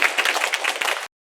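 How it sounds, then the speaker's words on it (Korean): A church congregation claps together in a brisk, dense burst of applause that stops abruptly after about a second. "다시 한번 힘차게 박수로 축복하겠습니다"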